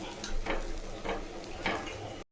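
Rice roti cooking on a hot pan gives a steady sizzle and hiss, with soft stirring or pressing sounds swelling three times across the short stretch, no voices.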